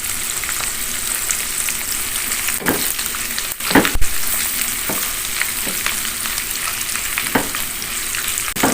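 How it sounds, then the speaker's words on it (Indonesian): Steady, loud sizzling of eggplant frying in hot oil, with occasional stirring clinks and scrapes, continuous throughout. "aku gorengnya kayak gini aja ya guys, nggak terlalu garing ya"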